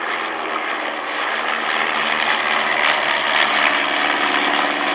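Chipmunk propeller aircraft flying in formation at an airshow give a loud, continuous buzzing engine drone with a throbbing propeller tone, sustained and close.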